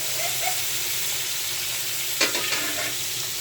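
Small fish frying in a pan give a steady, dense sizzle up close, with a brief louder crackle as the fish are stirred or turned partway through.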